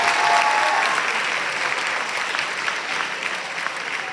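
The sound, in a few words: applause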